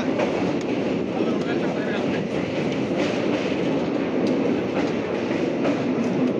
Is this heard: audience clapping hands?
no